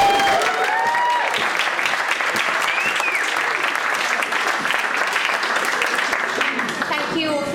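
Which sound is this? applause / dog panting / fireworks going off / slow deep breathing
applause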